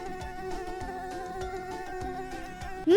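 A mosquito's high, thin whine drones steadily over a rhythmic musical backing with regular low thumps, and a brief louder sound cuts in at the very end.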